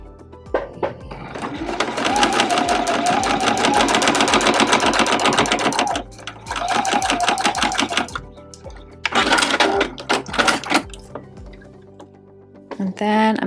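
A sewing machine stitches rows through strips of scrap fabric on a zero-waste zipper pouch, running in several fast, close bursts of rapid needle chatter separated by short pauses.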